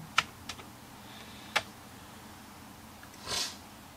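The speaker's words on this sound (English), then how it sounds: "Type in my name." Keystrokes on a Commodore computer keyboard: a few sharp, separate clacks with uneven gaps, close and fairly quiet, then a brief softer rustle near the end, with no voices.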